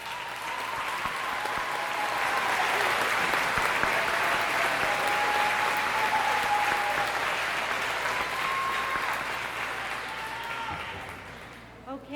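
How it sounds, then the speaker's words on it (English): A graduation ceremony crowd applauding, a dense sustained clapping that swells, holds for several seconds and tapers off near the end, with a voice faintly heard under it. "Let's give them all another round of applause."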